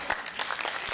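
Audience applause at a modern dance championship, a short burst of scattered clapping with a few distinct hand claps standing out, heard moderately close.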